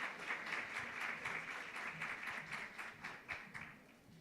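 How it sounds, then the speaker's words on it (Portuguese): Light applause from a modest seminar audience at an education conference greets a professor called to the panel table, a thin patter of scattered claps that rises and falls with some uneven individual hits. "Salve de palmas, professora."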